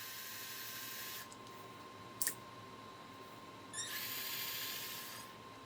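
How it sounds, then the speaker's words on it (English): Surgical drill boring for a screw during an MTP joint fusion in the operating room: two steady high-pitched whirring runs, the second longer, fairly quiet over a constant electronic tone, with no talking. "drill."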